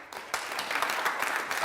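A television studio audience claps steadily, dense overlapping applause at moderate volume that swells slightly and holds without any voices breaking through.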